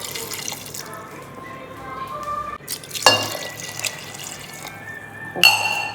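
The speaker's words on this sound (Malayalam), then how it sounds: "ഇതിലിനി കുറച്ച് വെള്ളം കൂടെ ഒഴിക്കണം." Water pours and splashes into a metal pressure cooker in bursts while making sambar, with clinks of metal, and a voice speaking briefly.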